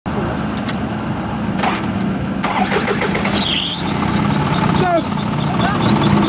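An Isuzu 4HL1 diesel engine, fresh from an ECU repair, turns over and catches, then settles into a steady close-up idle while voices talk over it.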